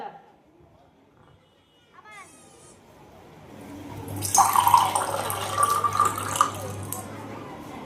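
A stream of water pours into a vessel during a stage magic show, a steady splashing wash that swells midway and runs for several seconds, preceded by talk and short chimes.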